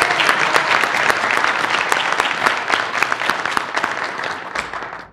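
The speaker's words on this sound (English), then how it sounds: "let's give him a round of applause." An audience at an agricultural outlook forum applauds, a dense wash of many hands clapping at once, loud and sustained for several seconds before tapering off at the end, with no talk over it.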